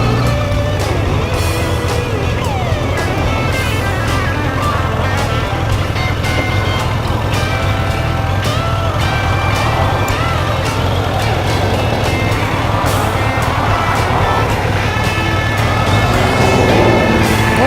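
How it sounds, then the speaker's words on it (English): Dense, steady roar of heavy road traffic, with cars, trucks and buses rumbling past on a Kentucky road, loud and continuous throughout. "Well, I can't believe how heavy traffic is."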